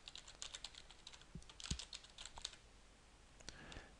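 Typing on a computer keyboard, a soft, uneven run of quick key clicks that slows near the end, close and quiet with no talking.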